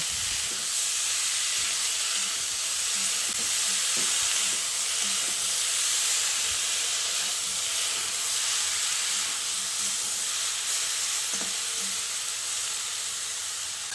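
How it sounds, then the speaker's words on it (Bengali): Spinach fries with potatoes in a pan, a steady loud sizzle and steamy hiss running throughout, with a few faint scrapes of stirring underneath. "এইভাবে অল্প করে শাকগুলো দেব আর নেড়ে চেড়ে মিশিয়ে নেব।"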